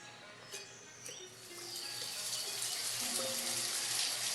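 Steady video game rain patter and running water hiss build gradually, with a few faint chirps and tones mixed in, fairly quiet overall.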